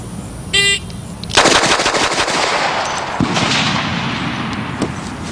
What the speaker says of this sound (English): see if I can shoot about 6 rounds in a second on that target.